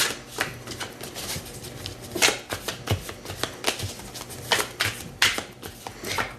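Tarot cards are shuffled close by in quick rustling bursts and riffling snaps, repeating irregularly with a soft papery texture and no voice over them.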